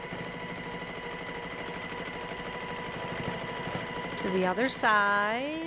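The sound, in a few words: sewing machine stitching a quilt block seam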